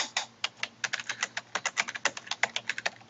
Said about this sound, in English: So we'll type in our phrase